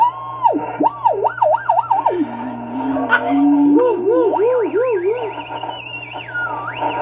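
Warbling, whistling radio tones sweep up and down in pitch over a steady hum, strange and electronic, with a garbled voice-like quality in places.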